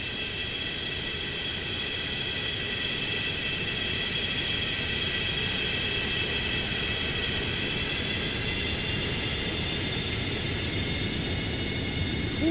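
A Boeing 727-200 in flight-simulator game audio, a steady, continuous jet engine drone with a high whining tone layered over a low rumble, unchanging throughout and without voices.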